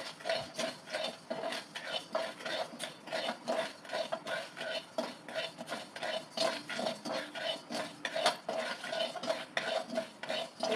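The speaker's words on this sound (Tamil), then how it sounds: "இது எல்லாத்தையும் நம்ம வெறும் சட்டியில் வறுக்கிறோம்" Chillies and coriander seeds dry roasting in a bare pan, stirred with a utensil that scrapes and rattles in a steady, continuous rhythm, close and fairly loud, with no one talking.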